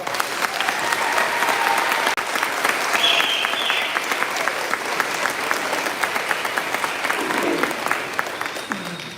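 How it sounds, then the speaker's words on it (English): A graduation audience gives the graduates a long round of applause, dense and steady crowd clapping filling a large hall, with faint voices and cheers mixed in. "Let's give them a round of applause."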